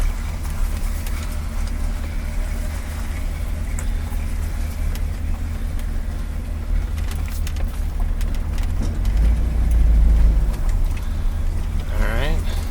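A 1977 C3 Corvette engine idles steadily after a transmission fill, a constant low rumble close by with a brief rise in revs near the end and a voice speaking over it.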